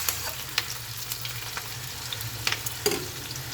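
Taro and spinach curry frying in a pan, with a constant sizzle and several crisp clicks and scrapes as a utensil stirs, close up, with no voices.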